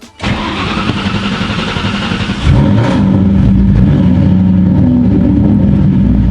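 A $1000 Ford Mustang GT V8 cranks briefly, then fires up and settles into a loud, steady, rumbling idle close by, with no talking.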